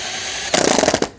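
A drill spins a drain auger inside a Jeep TJ frame for rust removal, producing a loud, rapid rattling and scraping burst of about half a second that cuts off abruptly after a quiet start.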